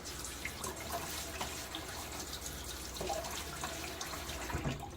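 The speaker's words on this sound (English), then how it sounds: "So now I'm going to throw a little bit more water on my face." Water splashed onto a face from a bowl in a sink during a wet shave, a steady wash of splashing and trickling with small drips, close and moderately quiet, no voices.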